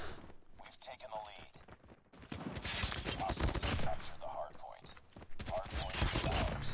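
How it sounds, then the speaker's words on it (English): Rapid automatic gunfire from a video game gun crackles in dense bursts, loud and close, with brief pauses between volleys, while a player talks over it. "This gun kills so fast."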